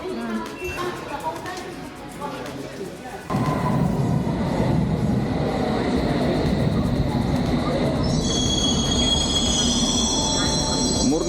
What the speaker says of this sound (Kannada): ಮೂರು ನಿಮಿಷಕ್ಕೊಂದು 5 ನಿಮಿಷಕ್ಕೊಂದೊಂದು ಟ್ರೈನ್ ಬರ್ತಾನೆ ಇರುತ್ತೆ